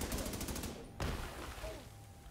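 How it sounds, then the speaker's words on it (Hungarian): A grenade explodes in the Division 2 video game, a single sharp blast cutting through ongoing rapid gunfire, with the crackling din continuing afterward. "Dobok egy gránátot"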